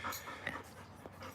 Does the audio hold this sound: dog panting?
yes